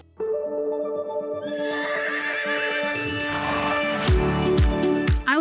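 A horse at a horse shelter lets out a loud, close, drawn-out whinny that rises and falls in pitch. A few hoof clops and snorting sounds follow near the end.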